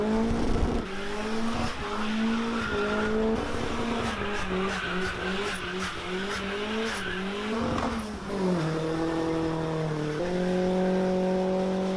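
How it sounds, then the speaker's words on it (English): A 2-litre Mazda MX-5 Miata with individual throttle bodies does a massive burnout in a yard, engine revving high and rising and falling while tires squeal loudly and continuously. "promptly managed to do a massive burnout in our yard"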